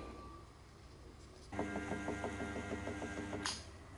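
A strap cutting and folding machine starts partway through after a quiet stretch with faint hum. It then runs with a rapid, regular mechanical clatter and a steady whine, followed by a brief sharp hiss near the end.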